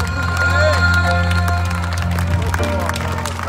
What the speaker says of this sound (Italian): Tutti con gli applausi, forza.